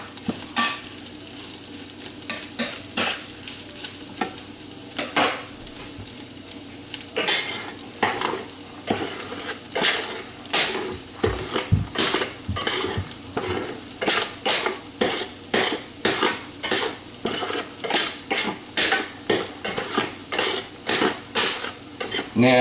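Scrambled eggs get stirred in a pan, a long run of rapid, rhythmic scrapes and clinks of a utensil against the metal over a soft sizzle, close and loud with no talking.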